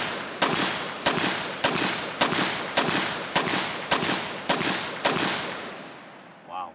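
HM Defense MB5 rifle fired in nine sharp, loud, evenly spaced shots roughly every 0.6 seconds, each with a short decaying echo, followed by a fading tail and a faint brief sound near the end.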